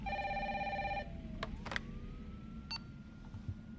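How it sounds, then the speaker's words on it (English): A house phone rings in a video game, a short electronic ring pattern in the first second, then quiet ambience with a few faint clicks and tones. "We got this house phone."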